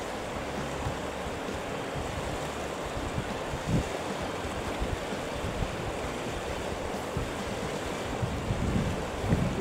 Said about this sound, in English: As the river flows down to the sea